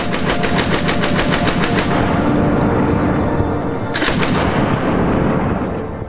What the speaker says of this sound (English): Troops fire on suspected Russian positions.